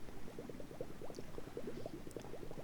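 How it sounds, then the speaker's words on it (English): Water pours into a sinking ship's compartment in the physics game Floating Sandbox, heard as a soft, steady burble of bubbling and gurgling, quiet and close. "now the second compartment is starting to flood"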